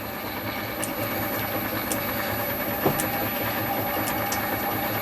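A metal lathe turns a taper between centres while making a new dead tailstock centre: a steady machine drone with a thin high whine runs throughout, joined by a few faint ticks and one brief scrape, with no talking.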